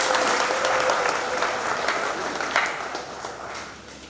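A church congregation applauds at a parish service, a thick, continuous wash of clapping that stays loud and tapers off slightly toward the end.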